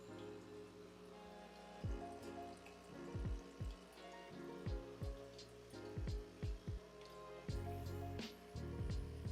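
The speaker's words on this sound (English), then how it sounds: "So currently you have water coming out, just priming everything up." A Breville Barista Touch Impress espresso machine primes during initial setup, with water flowing and dripping in irregular splashy trickles and soft thumps from the machine, no talking.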